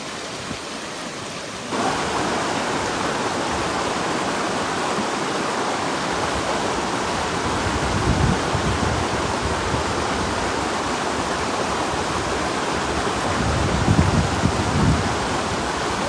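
Flowing river water where a fishing net is being cast, a steady broadband rush that continues throughout at even loudness, with no talk.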